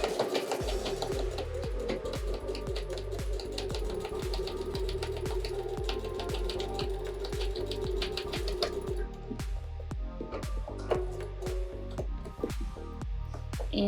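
A sewing machine back-stitches the casing of a fabric face mask, its rapid mechanical needle clatter running steadily for about nine seconds, then breaking into shorter stop-start bursts and a few sharp clicks near the end.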